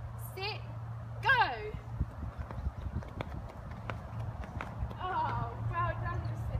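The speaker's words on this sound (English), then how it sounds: "First one we'll do is like a horse, so we're gonna gallop." Children gallop like horses in a backyard-style race, quick rhythmic footfalls close by under excited voices and squeals.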